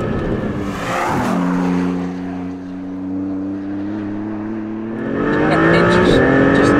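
Maserati MC20 supercar with 621 horsepower pulling hard at full throttle in second gear out of a corner, a loud, rising engine note holding steady before climbing again near the end, with no speech.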